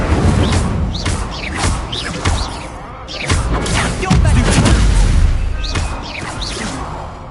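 Fire spells cast over and over in the game Hogwarts Legacy: repeated bursts of whooshing flame with crackling hits and thuds, loud and busy, over a steady game backdrop.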